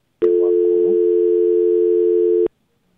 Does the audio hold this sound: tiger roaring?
no